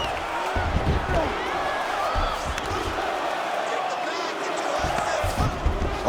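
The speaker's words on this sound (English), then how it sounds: "the crowd pops in appreciation as the fighters work their way back" A steady arena crowd roars in EA Sports UFC 5 during a Jon Jones versus Fedor Emelianenko fight after a grueling ground exchange, a dense broad wash of cheering with low thuds and impacts throughout, loud and continuous.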